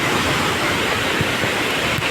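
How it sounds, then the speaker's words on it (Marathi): Water pours at Savatkada waterfall, a loud, unbroken roar of falling water that fills the whole moment, with no voices over it. "पाणी पडतेला आवाज आणि हे ॲमेझॉन सारखं वाटतं"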